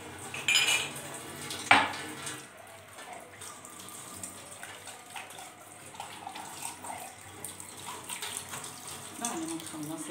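Dishes and cutlery being washed in a home kitchen sink, with sharp clinks of utensils near the start, then softer scattered clatter and running water through the rest.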